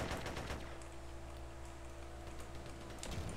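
Gunfire rattles in the multiplayer game SA-MP, with a quick burst of rapid shots at the start and another near the end over a low, steady hum, all fairly faint.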